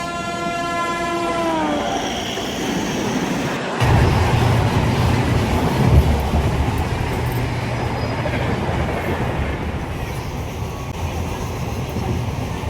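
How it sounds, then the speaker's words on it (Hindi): Passenger train arriving at a station in Shahdol: a loud horn blast at first, then a heavy continuous rumble and rattle of wagons rolling close by that eases slightly toward the end. "देखो हमारी ट्रेन आ गई"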